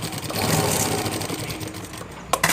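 A sewing machine stitches a garment neckline with a continuous close whirring hum for about two seconds, then stops, followed by a couple of sharp clicks.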